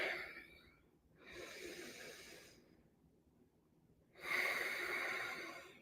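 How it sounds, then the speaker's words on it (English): Slow, deliberate breathing, a long drawn inhale and a long exhale separated by quiet pauses, close and fairly soft, with no talking. "Let's breathe together for a moment."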